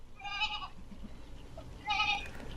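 Goats bleating in two harmonic bursts, loud and close, from a huge free-roaming herd of about a thousand animals, with a short gap of quiet between the calls.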